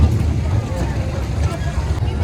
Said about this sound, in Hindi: ये देखो जैसे पटरी पे चलती हुई ट्रेन की आवाज़ आती है, ठटक ठटक ठटक ठटक ऐसी आवाज़ आ रही है।